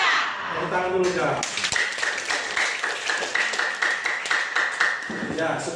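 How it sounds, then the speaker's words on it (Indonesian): A classroom of students claps along in a quick, rhythmic burst of applause, loud and close, with voices chattering over the start and end. "Tepuk tangan dulu ya."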